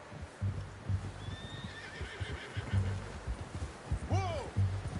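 A horse in the Red Dead Redemption 2 video game gives a short whinny near the end, over rhythmic clip-clop hoofbeats and low game ambience.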